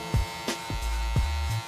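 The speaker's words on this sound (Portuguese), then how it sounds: "você vai cortar esse cabelo aqui na máquina 0" Electric hair clipper at zero guard cutting hair for a high fade: a steady close buzz with repeated short dips and surges as the blade passes over the head.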